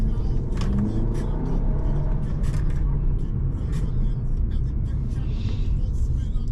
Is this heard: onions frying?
no